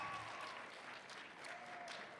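An audience at an event applauds for a performer named Ann, a steady wash of clapping that is faint and distant and continues throughout without a break.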